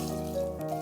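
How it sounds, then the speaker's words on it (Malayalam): Water pours steadily into a pot of chopped papaya, a close, continuous splashing stream lasting under a second with no voices. "കുറച്ച് വെള്ളം ഒഴിച്ച്,"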